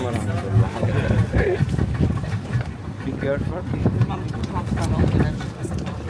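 Boat ride aboard a yacht with steady wind buffeting the microphone and a low engine or hull rumble throughout, while people talk over it.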